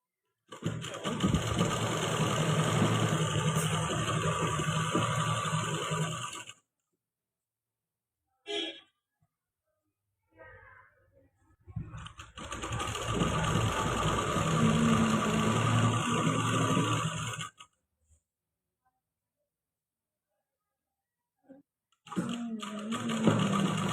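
A sewing machine stitches salwar fabric in two long continuous runs of rapid whirring, separated by silence with brief handling noises, then starts up again at the very end.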